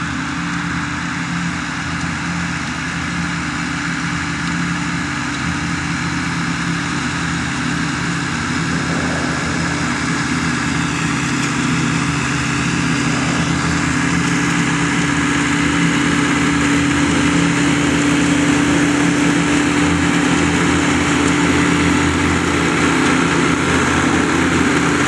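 A big riding mower cuts a baseball field, its engine droning steadily and loudly throughout with a constant, unbroken hum and no voices.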